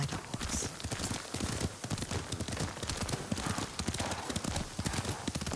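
Horse hooves clip-clopping steadily at a brisk ride in the samurai game Ghost of Tsushima, a fairly faint, even rhythm with no talk.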